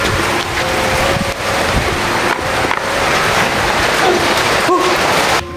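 Heavy rain and gusty wind outdoors, a loud continuous roar with wind buffeting the microphone throughout.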